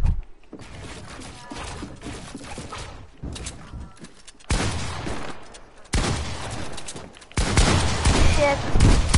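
Video game gunfire on a PS4 livestream: bursts of rapid automatic shots and sharp reports come in several blocks of varying loudness, with game noise and brief gaps between.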